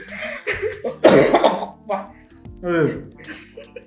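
Several loud, harsh coughs burst out in a row, mixed with voices talking and exclaiming close by.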